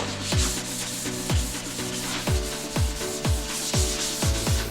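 Steady back-and-forth scratching of sandpaper stuck to a large Scotch-Brite pad on a Dodge Journey during collision repair, rhythmic strokes about once a second, close and fairly loud with no voices.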